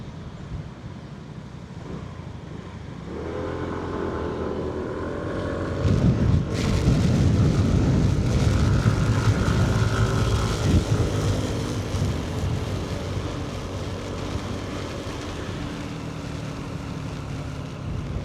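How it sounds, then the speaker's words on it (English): A scooter rides through rain, a steady engine drone with wind rush and road noise that swells as it accelerates midway and then settles, loud and continuous with no voices. "A rainy day on the scooter milling around"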